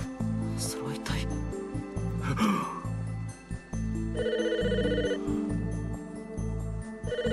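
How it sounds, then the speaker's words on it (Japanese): A telephone rings repeatedly in the Famicom Detective Club game, an electronic chiming ring pattern over looping game music, with a voice speaking over it. "電話が。"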